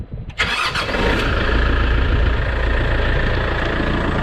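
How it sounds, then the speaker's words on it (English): A tractor engine with a clogged dirty radiator and low coolant cranks briefly, then catches and settles into a loud, steady, close-up low idle rumble. "I'm getting ready to get up in here and fire it up and see what goes on"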